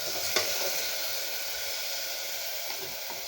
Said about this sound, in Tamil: நல்லா கொஞ்சம் லைட்டாக வறுத்துட்டு கழுவி எடுத்து வச்சுருக்கேங்க. இதை அப்படியே போட்டுக்கலாங்க.